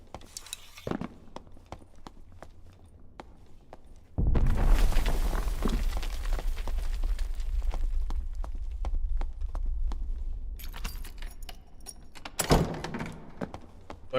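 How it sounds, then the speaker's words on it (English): Footsteps in the video game Dark and Darker come as a series of distinct thuds and clacks, sometimes spaced and sometimes quickening, set against a heavy rumbling background that swells midway, with no voices. "There's the steps."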